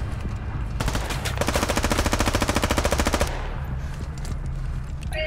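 Rapid automatic gunfire in an online shooter game, a sustained fast burst of rattling shots lasting about two and a half seconds over a steady background rumble, loud and close.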